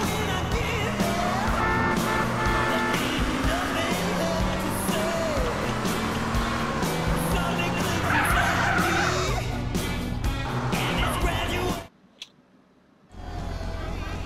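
A car drives and skids with tire squeal in GTA Vice City Stories, with steady engine noise and several screeching slides over roughly twelve seconds before a sudden near-silent gap, then the sound resumes.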